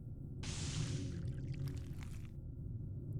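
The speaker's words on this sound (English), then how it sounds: "That sounded like water. Is there water in here?" Water pours in the horror video game Corpse Party: Book of Shadows, a bright rushing gush that runs about a second, then breaks into scattered drips and splashes before fading under a low ambient hum.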